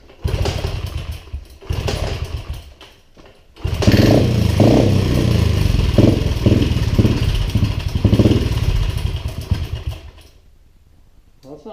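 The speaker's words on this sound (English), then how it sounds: "let's give a few kicks, see if it'll even fire." A 1988 Honda Z50R minibike is kicked over several times, sputters in short bursts, then fires into a loud, buzzing, revving small-engine rattle close by before it fades back down.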